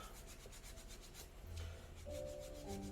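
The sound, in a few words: wiping laminate floor with wet wipe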